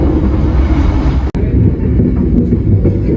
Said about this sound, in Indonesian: sekarang kereta api Motis Utara tiba di stasiun Pegadaian Baru